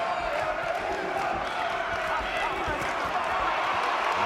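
A boxing crowd rises to its feet at the Brian Rose vs Max Maxwell fight, a loud sustained roar of cheering and whoops that holds steady throughout, with a commentator talking over it.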